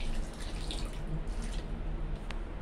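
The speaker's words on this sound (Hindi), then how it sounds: "इतना पानी डालेंगे कि मिट्टी गीली हो जाए बस।" Water poured from above into soil in plant grow bags, a steady trickling and dripping stream close by, with no talking.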